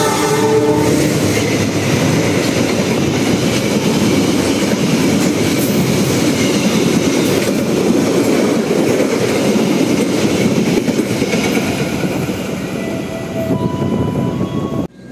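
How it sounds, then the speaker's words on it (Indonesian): A Metro commuter train passes on track 3 in Indonesia, rumbling loudly and steadily, wheels clattering on the rails with a brief horn tone near the start, fading at the end. "akan melintas langsung kereta Metro jalur 3"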